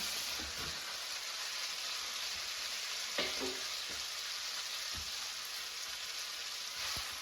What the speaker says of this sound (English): I'm going to bring the spaghetti from the colander here and add it to the frying pan